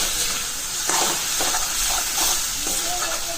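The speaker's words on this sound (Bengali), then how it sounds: "আস্তে আস্তে আমি কষাতে থাকব" Salted masala for egg curry being sautéed in a pan, a steady close sizzle with soft scraping stir strokes recurring every half second or so throughout.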